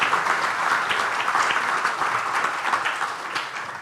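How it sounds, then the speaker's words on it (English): An audience at a conference session on future capability and risk applauds Professor Verhazen, steady clapping throughout without voices on top. "please give a warm round of applause to Professor Verhazen"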